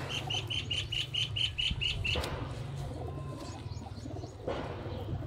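Batera pigeons of the Sialkoti breed call and flutter close by, with a run of regular chirping notes early on, then soft cooing and wing sounds over a steady low hum.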